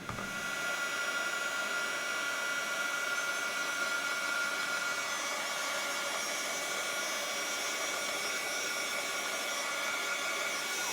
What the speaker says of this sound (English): I'm gonna heat up my heat gun really, really, really hot. And then once it's super hot, I will melt the powder